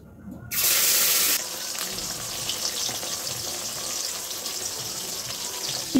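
Fish frying in hot oil, a steady loud sizzle that bursts in as the pieces go into the pan, then settles to a continuous crackling hiss, close by, with no talk.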